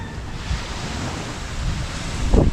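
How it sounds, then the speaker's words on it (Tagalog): Sea waves wash and break on a beach under steady wind buffeting the microphone, a continuous, close roar with a louder surge near the end. "Ito pa rin ako sa dagat."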